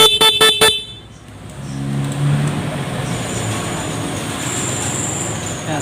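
Short rapid bursts of a car horn wired up alongside a newly installed mini driving light with passing light, four quick honks at the start, then a lingering low hum and faint background noise.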